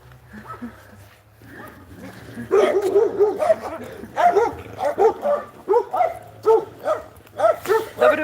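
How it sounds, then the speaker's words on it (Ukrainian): Several dogs bark and yip repeatedly in bursts, with whimpering between, fairly close, while a person's voice murmurs in the background. "Мирні собачки."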